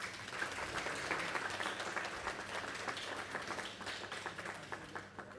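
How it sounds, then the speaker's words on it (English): An audience at a university chemistry event applauds a scientist, a dense steady roomful of clapping at moderate distance that holds throughout and tapers slightly near the end. "Please have a great round of applause for him."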